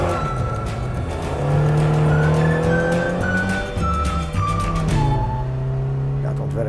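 A small, aggressive British sports car drives loudly, its engine note rising and falling through gear changes close by, with a voice talking over it.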